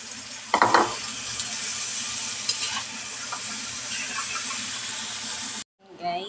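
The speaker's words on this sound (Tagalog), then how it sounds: "Gisa na tayo ng bawang, sibuyas at kamatis." Garlic, onion, tomato and chili sauté with chayote in a hot pan. Steady sizzling runs throughout, with a few scraping stirs, and a voice speaks at the end after the sizzle cuts off.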